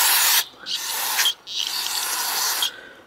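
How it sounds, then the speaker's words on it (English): Aerosol cleaner sprayed on a push mower carburetor hisses in three loud bursts, the first short and the next two longer, separated by brief pauses. "spray it one more time."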